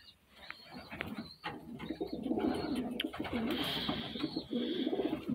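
Pigeons coo softly in a backyard coop, a steady murmur of low, rolling calls that overlap continuously with no voices present.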